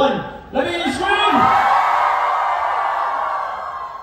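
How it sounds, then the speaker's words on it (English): A concert crowd screams loudly on cue after a short count, a sustained roar that rises sharply and holds steady, with a guitarist on stage before the audience. "3, 2, 1, let me scream!"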